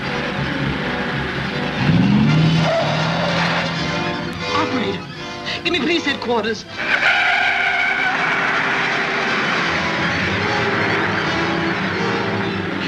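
A stolen 1942-era squad car speeds away with tires skidding and squealing, a loud engine rush and screech near the start, then steady motor noise while someone speaks over it.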